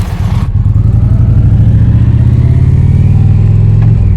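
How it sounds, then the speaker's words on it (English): An Indian Chieftain motorcycle fitted with a Stage 2 exhaust idles and revs close by. After a brief start, its deep, loud, steady burble runs throughout with no talk. "this bike does have the Stage 2 exhaust on it, which gives it a little more burble"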